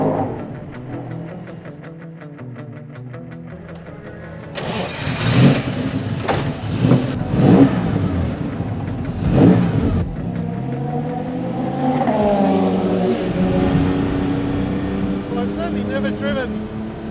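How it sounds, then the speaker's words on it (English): A 1954 Aston Martin DB2/4 with a 3-litre straight-six engine breathing through twin SU carburetors revs up loudly on a track, rising and falling pitch sweeps, then settling into a steady drone, with someone talking over part of it. "this beautiful 3-litre straight-six Aston Martin engine breathing through twin SU"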